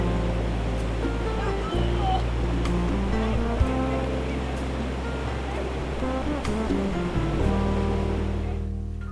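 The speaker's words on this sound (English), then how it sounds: "A boat trip reveals a beautiful confluence of water, the rapids known as Peti" River rapids at a water confluence rush and churn steadily on a boat trip in the jungle, a loud continuous wash of water with a shifting motor drone underneath.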